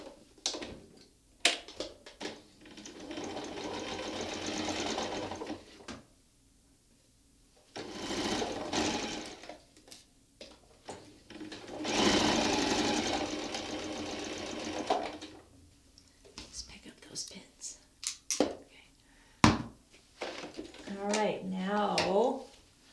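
A domestic sewing machine stitches quilt block seams in repeated bursts of steady mechanical whirring, separated by short pauses, fabric handling and light clicks.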